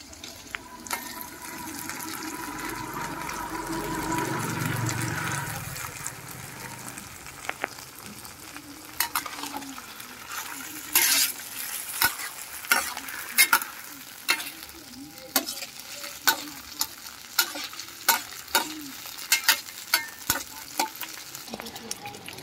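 Ligo sardines are stirred and sautéed with garlic and onion in a pan, a loud sizzle at first that settles into a softer fry punctuated by repeated scraping spoon strokes against the metal.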